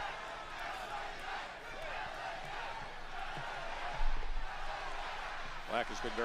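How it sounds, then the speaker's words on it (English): A large crowd at a live SmackDown wrestling event in Southern California rumbles and roars in support of a returning star, a dense distant wash of voices that swells briefly with a few whoops. "you can hear here in Southern California the crowd rallying support for the megastar"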